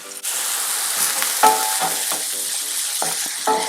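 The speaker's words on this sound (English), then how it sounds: "you want to hear that sizzling sound when you put your ingredients into your skillet" Onions hit a hot skillet for bola-bola soup and burst into a loud, steady sizzle, with several scraping stirs and small clinks over it.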